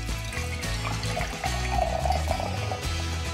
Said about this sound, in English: Put some milk in it.